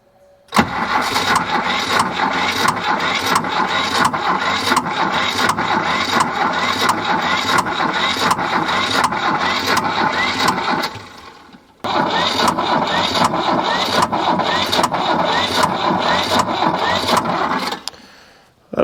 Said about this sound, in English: Come on, starter, hang in there. I think it's trying to go. It's puffing a little bit right now.